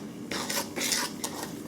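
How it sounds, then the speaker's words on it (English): A whisk or spoon stirring vegan chocolate chip cookie cake batter in a bowl, three or four short soft scraping strokes, close and fairly quiet. "we're going to mix this until it looks nice"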